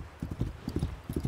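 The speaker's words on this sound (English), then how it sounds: "Oh, there goes the horse." Horse hooves clip-clop in quick bursts of steps in the Assassin's Creed Valhalla video game, close and fairly soft, with short gaps between the clusters.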